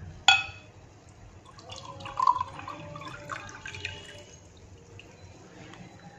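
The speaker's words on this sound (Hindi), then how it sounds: "अब इसमें जो है हम दोबारा से ठंडा पानी शामिल करेंगे।" Cold water poured into a pot for Kashmiri pink tea, a quiet trickling and dripping pour with faint splashes, heard close up and without talk.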